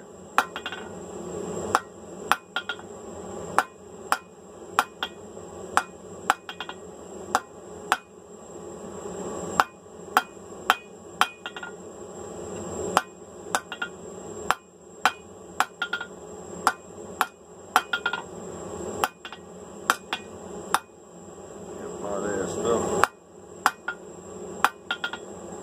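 Steel is hammered on an anvil while forging flat bit tongs, with sharp ringing blows landing in irregular clusters across the stretch and a faint high ambient hum between strikes.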